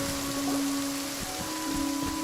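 Heavy rain falls as a downpour in the game Genshin Impact. A steady hiss of rainfall with scattered drop patter runs under a soft sustained musical tone, with no talking.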